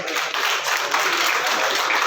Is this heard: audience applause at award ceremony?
yes